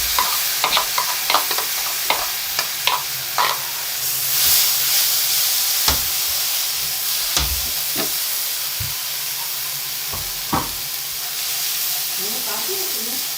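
Green chilies and boiled chana dal fry in a pan with a constant bright sizzle and hiss. Sharp clinks and scrapes of stirring cut in repeatedly, with a faint voice now and then.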